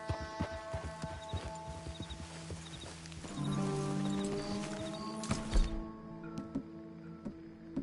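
Horse hooves clip-clop in a steady rhythm at moderate distance in Red Dead Redemption 2, with a brief rustle and thump midway, no talking.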